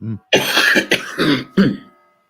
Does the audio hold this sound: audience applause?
no